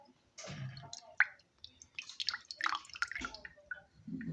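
Coconut water drips and splashes from a cracked coconut, a faint run of irregular wet drips and small squishy trickles, close and quiet with no talking.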